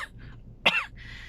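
A single short, sharp cough sounds from a person with a sore throat, close and fairly loud against a quiet indoor background.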